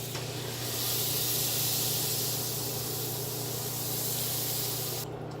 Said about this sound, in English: We're going to go ahead and throw our 2 tablespoons of butter in the pan. Let that start melting down.